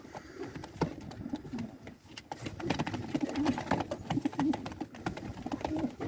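Tumbler pigeons coo in a steady, overlapping murmur close by, soft repeated calls layered over a busy background of wing flutters and loft noise throughout.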